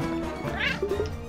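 A cat meows in the video game Cat Quest, one short rising-and-falling cry near the middle, followed by a softer trailing note over steady game music.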